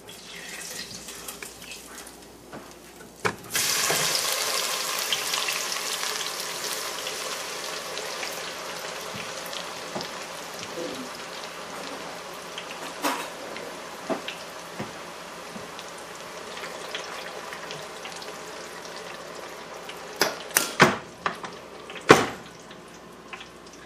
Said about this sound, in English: come along with me and we'll cook it up in the fryer